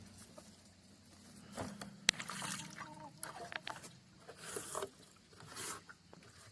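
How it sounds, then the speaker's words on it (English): Dirty water is poured out of a container on a homestead in freezing weather, giving irregular splashing and trickling bursts with a few brief clatters, close by and fairly quiet. "I'm going to empty this because this is nasty water."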